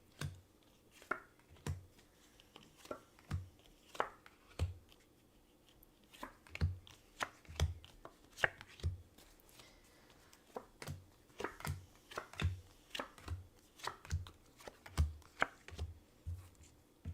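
Cards being shuffled by hand: a steady run of soft slaps and clicks repeating about twice a second, close by, with no voices.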